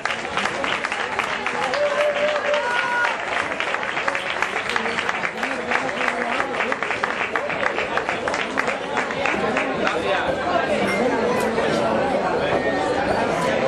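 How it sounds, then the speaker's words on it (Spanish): An audience at a ham-tasting event during Seville's April Fair claps steadily and loudly for the whole stretch, the dense applause mixed with crowd chatter. "Un aplauso para él, por favor."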